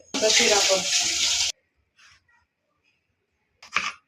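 Lentils and rice being washed under a running tap, a loud continuous gush of water for about a second and a half, then silence and a brief clattering splash near the end.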